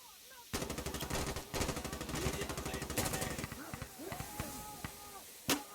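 Rapid bursts of automatic gunfire in the video game Insurgency Sandstorm, dense stuttering volleys close by followed by scattered shots and tinny metallic clinks, with a final loud single shot near the end.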